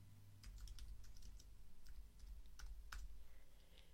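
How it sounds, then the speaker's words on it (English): Rapid clicking of keys on a computer keyboard, a steady run of sharp taps with occasional louder strokes, close and clear over a low background hum, with no voices. "I'm going to press the Return or the Enter key on the keyboard to add another line of type on the same type layer."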